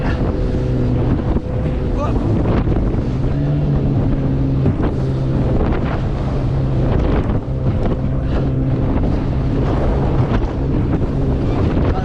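Wind buffets the microphone on a Quicksilver Ocean Runner 410 RIB with an Evinrude ETEC 25 outboard, crossing a breezy Solent in November. Steady roaring gusts mix with a droning engine hum and water noise throughout, with no talk.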